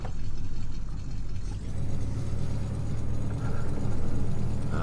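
Beefy vehicle engine in the Farming Simulator 2015 video game, a steady low rumble running continuously and loud throughout, with the drone deepening slightly after the first second and a half.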